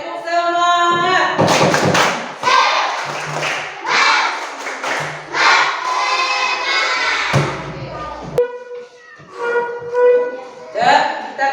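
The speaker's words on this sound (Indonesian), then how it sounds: "Tepuk semangat." A classroom of pupils clapping in rhythm for the tepuk semangat, loud patterned claps and thumps blended with group chanting and a teacher's voice, near and energetic.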